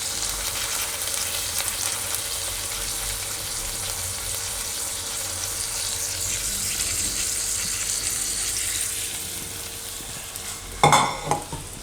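Oil heating in a pan for a Gujarati sweet corn paneer curry, giving a steady close sizzle and stirring hiss throughout, with a brief louder clatter as ingredients go in near the end.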